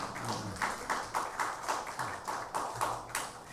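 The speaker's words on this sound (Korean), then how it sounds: "우리 성가대원들에게 다시 한번 감사의 박수하겠습니다" Church congregation at a Korean Sunday service clapping for the choir in a slow, even rhythm, each clap carrying a roomy echo, loud and close with no talk.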